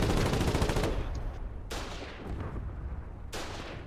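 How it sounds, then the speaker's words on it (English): Gunfire from the war video game Foxhole, in rapid bursts of shots and rattling automatic fire separated by brief pauses, fairly faint overall. "Oh no, you're getting shot at!"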